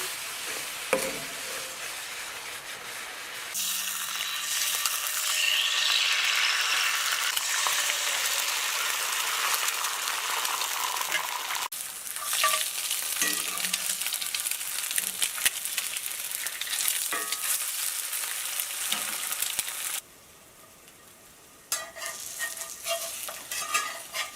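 Flour browning with mushrooms and milk for a gravy in a pan at a cabin, a steady close sizzle with intermittent scraping and stirring, briefly dropping near the end before resuming, no talk.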